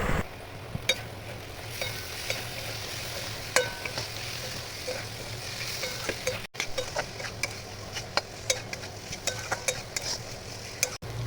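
Potatoes frying with spices, Kashmiri red chilli powder and chopped tomato for mutton fat ghugni: a soft, low sizzle with frequent sharp clicks and scrapes of a spatula stirring the pan, no voices.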